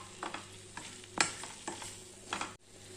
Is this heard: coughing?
no